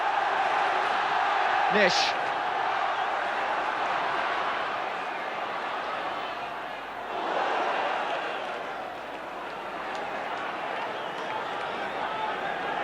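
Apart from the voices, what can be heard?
Derby County football crowd chanting, 1975/76 match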